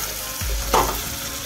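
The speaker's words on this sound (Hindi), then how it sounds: "अभी अदरक लहसुन का पेस्ट डाल दिए हैं, इसको भूंजेंगे" Chicken masala fries in a pan with freshly added ginger garlic paste, a steady close sizzle with a brief louder hiss and stirring scrape partway through.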